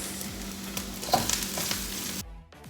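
Rice frying in a hot pan with Chinese sausage and onion, a close, steady sizzle with stirring scrapes, cutting off abruptly near the end.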